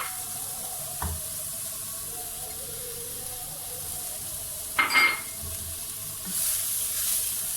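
Vegetables with salt and capsicum get stirred in a pan for spring roll filling, with a low sizzle, a couple of distinct utensil knocks against the pan, and a brighter hiss near the end.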